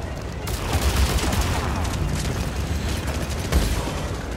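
Sustained automatic gunfire from the video game Mass Effect 3, a dense crackling volley with a few heavier booms, loud and continuous throughout with a speaking voice faintly underneath.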